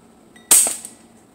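A single shot from a Hatsan Tactdriver air rifle aimed at trainers hanging on a highline wire outdoors, one sharp loud crack with a brief tail and a faint follow-up tick, alone and close.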